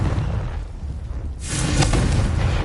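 Confringo fire-blast spell in the video game Hogwarts Legacy, a single loud whooshing burst that erupts partway through over a rumbling background.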